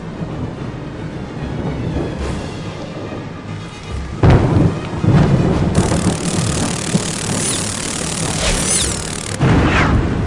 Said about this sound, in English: the following morning was stormy and foul